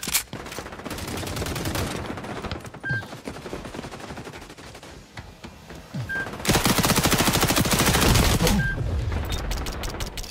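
Automatic and rapid gunfire from the video game XDefiant sounds in long sustained bursts with short gaps, loud and close, with a heavier stretch of fire near the end.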